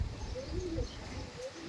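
Pigeons coo softly in a Madras loft, a few low, rolling calls close by over a quiet, murmuring background.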